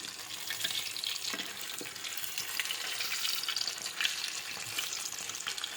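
Pond fish fry in hot oil with a continuous crackling sizzle and scattered sharp spatters, moderately loud and steady, with no talking.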